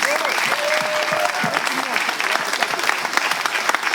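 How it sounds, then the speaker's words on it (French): An audience at a Togolese slam poetry awards evening breaks into sustained applause, lively clapping with a few voices and whistles mixed in across the crowd. "je crois quand même qu'ils méritent un grand applaudissement du public."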